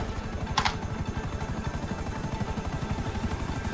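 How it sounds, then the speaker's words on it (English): Helicopter in the video game GTA V, its rotor chopping steadily and loud throughout with a brief brighter burst near the start. "Don't come closer to my chopper."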